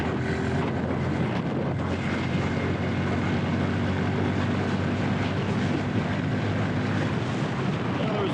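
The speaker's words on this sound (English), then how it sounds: "So 4th gear wide open here." A 2019 Honda Super Cub C125 motorcycle held at wide open throttle in fourth gear, its engine a steady, loud drone under heavy wind rush that runs unbroken from start to finish.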